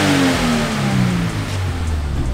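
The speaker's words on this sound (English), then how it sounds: "We're gonna go for a red line." A Toyota Supra engine revs hard toward redline, its pitch climbing and then holding at a loud, close roar with no talking over it.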